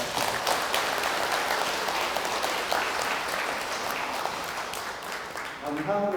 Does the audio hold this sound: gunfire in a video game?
no